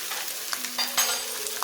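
Tomato soup is stirred in a pan on the stove, giving a low steady sizzle broken by a few soft spoon scrapes and clicks, quiet and close.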